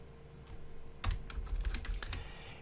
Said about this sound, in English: And now we just type in a message to show the user on password and username validation.